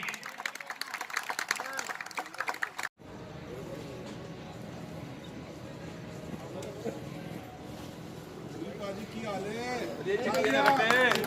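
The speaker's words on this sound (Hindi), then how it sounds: "जोरदार तालियां बजनी चाहिए" Audience applause at a pigeon tournament ceremony in Rajsamand, Udaipur: sustained, fairly loud clapping from a crowd fills most of the stretch, starting abruptly after a few seconds of speech and swelling toward the end, with voices mixed in.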